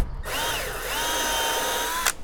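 A power drill bores a hole for a house address number, its motor whining steadily and close for about two seconds, the pitch dipping and rising as the bit bites, then stopping abruptly.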